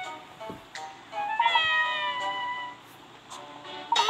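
A cat meows in Layton's Mystery Journey video game, a drawn-out whining mew with a second shorter cry at the end, set over quiet background music.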